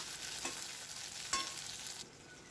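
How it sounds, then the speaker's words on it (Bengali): Cumin seeds, tomato, chopped ginger and chilli fry in a little oil in a wok with a steady bright sizzle, plus a couple of soft stirring clicks, no voices. "তো আমি জিরে ফোড়ন দিয়ে দিলাম কড়াইতে, ওই তেলটার মধ্যে অল্প করেই তেল ছিল"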